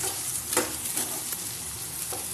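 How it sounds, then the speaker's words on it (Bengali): Eggplant pieces frying in hot oil with turmeric and salt, stirred now and then. A steady sizzle fills the whole clip, with a few louder scrapes of stirring, close by and with no voices. "প্রথমে আমি বেগুনগুলোকে দিয়ে দিয়েছি বেগুনগুলোকে ভালো করে নেড়ে নেবো"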